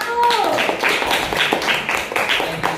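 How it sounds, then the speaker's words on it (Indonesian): Short burst of classroom clapping for a group of students, a handful of close, uneven hand claps over a couple of seconds, with a brief bit of speech at the start. "Beri tepuk tangan untuk kelompok 1."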